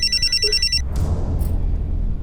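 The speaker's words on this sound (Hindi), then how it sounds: "सलीम जी फोन लीजिए और जैसा वो करने के लिए कहे आप करते रहिए।" A telephone rings with a bright electronic trill for under a second, then gives way to a low rumbling background with brief faint clatter, no one speaking.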